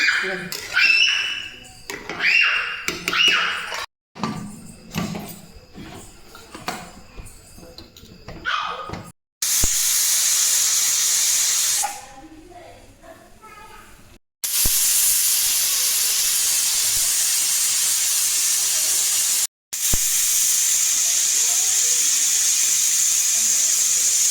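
A pressure cooker cooking spiced rice (masale bhat) vents a steady loud hiss of steam in long bursts, after three whistles, following a stretch of clattering kitchen sounds and talking.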